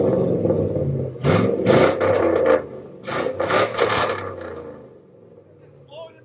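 A 2000 GMC Yukon with a 5.3L V8 and true dual straight-pipe exhaust revs up close in several rasping bursts over a rumbling idle, with voices talking nearby.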